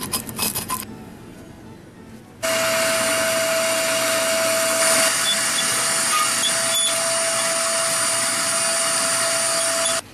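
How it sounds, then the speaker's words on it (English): A vacuum cleaner runs steadily at close range over the removed plates of a Hearthstone pellet stove, starting abruptly after a couple of seconds of light scraping and brushing and holding a loud, even whine to the end. "Now we've cleaned the plates by brushing and vacuuming them"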